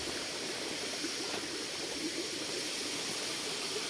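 A waterfall at a tourist site in Udon Thani, Thailand, gives off a steady, close rush of falling water. The wash is unbroken and even from start to end, with no voices.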